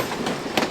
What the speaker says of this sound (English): These old rail cars are from the Southern Pacific Railroad